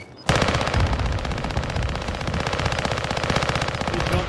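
Rapid automatic gunfire in a video game bursts in abruptly and continues as a dense, loud, sustained stream of shots, no voices.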